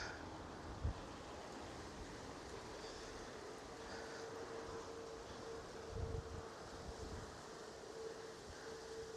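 Steady wind roars and buffets against the microphone at the airport in Ponta Delgada, São Miguel, Azores, with a few low gusty thumps, continuing without a break.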